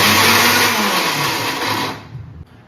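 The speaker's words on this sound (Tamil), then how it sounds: "இந்த மாதிரி கிரைண்டர்லேயோ மிக்சர் ஜார்லேயோ போட்டு குறைன்னு இந்த மாதிரி அரைச்சி எடுத்துக்கணும்" A mixer grinder whirs loudly as it grinds peeled small onions, a dense steady blender roar that holds for about two seconds, then cuts off and spins down abruptly.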